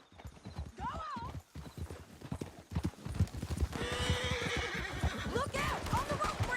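Horses in Red Dead Redemption 2 gallop down a canyon, with steady rapid hoofbeats and several shrill neighs rising over the pounding. Voices shout over the ride.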